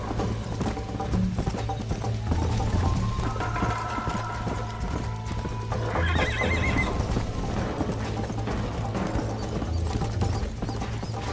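A horse in Red Dead Redemption clip-clops at a steady gait and lets out a whinny, with mechanical ratcheting and clanking in the mix throughout.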